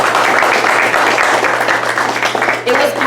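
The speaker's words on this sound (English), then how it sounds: "So we should give ourselves a big round of applause for that." A crowd at a scholarship award dinner applauds loudly and continuously, dense clapping close by with some voices mixed in underneath.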